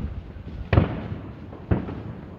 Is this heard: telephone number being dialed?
no